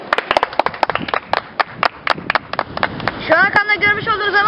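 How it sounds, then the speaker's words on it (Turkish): Loose clapping from a small group at the ancient Odeon in Anamur, with sharp individual claps in an irregular patter. A voice begins speaking near the end as the claps thin out. "Alkışlayın."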